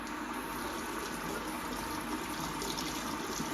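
Cold tap water runs in a steady, close stream while fresh herbs are rinsed for a slow-cooked lamb shoulder with mojo verde, a constant hissing flow with no talking.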